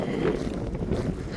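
Strong wind at a pink lake in Australia buffets the microphone in a dense, low, roaring rumble that stays loud and steady throughout the short stretch.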